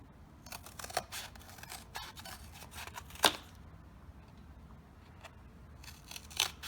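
Scissors cut a sheet of paper at half-inch marks with a series of crisp, close snips spaced out one after another.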